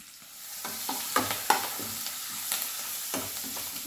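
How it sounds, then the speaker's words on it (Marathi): Curry leaves crackling in hot oil for a kadhi tempering, a sharp spitting sizzle that rises after a quiet start, with scattered pops and a stirring scrape, close up and alone. "कढीपत्ता चांगला तडतडून द्यायचा"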